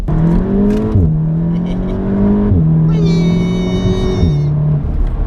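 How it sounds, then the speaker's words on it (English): A Volkswagen Golf R accelerates on a wet winter road, its engine note rising then dropping sharply at each of several quick gear shifts, close and loud, with a whistling whir joining midway and no talk. "I just love going like flicking through the gears"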